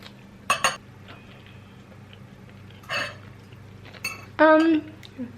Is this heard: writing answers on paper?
no